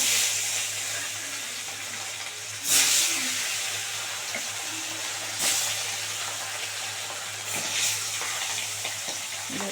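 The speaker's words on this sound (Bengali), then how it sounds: "এবার মাছগুলো দিয়ে দেবো ভালো করে মাছটা একটু কড়া করে ভেজে নেবো" Pieces of bhangan fish fry in white oil in a hot kadai with a constant close sizzle, broken by three sharp, louder hissing bursts spread across the stretch.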